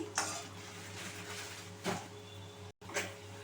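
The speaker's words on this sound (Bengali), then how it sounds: "আলুটাকে আমি কিন্তু হালকা ব্রাউন করে ভেজে দিচ্ছি" Parboiled potato pieces fry in oil in a kadai until light brown, a quiet continuous sizzle broken by a few metal utensil scrapes and knocks, with one short moment of silence near the end.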